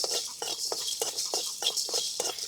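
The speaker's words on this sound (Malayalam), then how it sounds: "ഇനി നമുക്കിതൊന്ന് ചെറിയ തീ വെച്ചിട്ട് വറുത്തെടുക്കാം." Dried red chillies and spices dry-roasting on a low flame, a series of close scraping and stirring strokes against the pan over a faint steady hiss, roughly three to four strokes per second, no voices.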